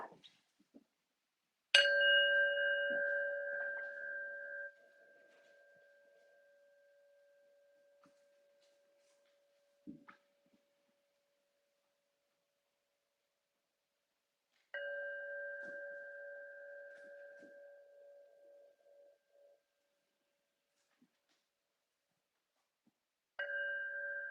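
A bell is struck three times, each strike ringing out clearly and fading slowly into silence between strikes.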